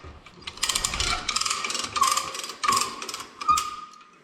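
A ratcheting jack being cranked to lift an engine out of a Western Star truck: rapid clicking pawl bursts in uneven pumping runs, close and fairly loud, with brief pauses between strokes.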